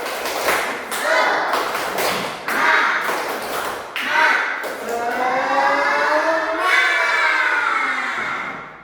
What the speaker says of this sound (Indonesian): Kalian tahu tepuk semangat? Oke, kita akan mulai itu. Tepuk semangat.